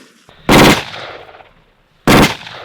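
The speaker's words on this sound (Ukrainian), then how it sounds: "Ставимо на автоматичну стрільбу, на автоматичну." Two loud, close bursts of automatic rifle fire at a Ukrainian scouts' firing drill, separated by a brief pause, each a harsh crack that rings out and fades.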